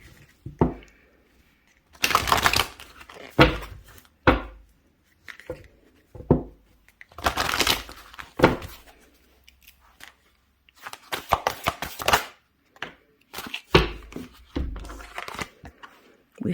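Moonology oracle cards shuffled and drawn by hand, bursts of riffling and slapping with quiet gaps between, close and crisp, with soft handling noises in between.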